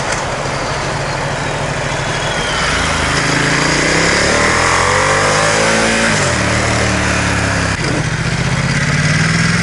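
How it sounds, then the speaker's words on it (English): A Ducati XDiavel motorcycle riding on a city road, its loud engine close and continuous, with a rising and falling whine from the straight-cut gears layered over the roar as the rider speeds up and eases off. "I can hear the very slow, small whine of the straight cut gears."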